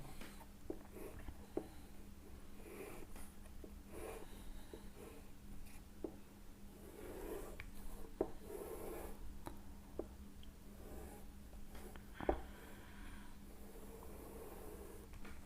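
Pen or marker strokes on paper during a strength-of-materials lecture, soft scratchy drawing sounds coming in short bursts over a steady low fan or air-conditioning hum, quiet and close with no talking.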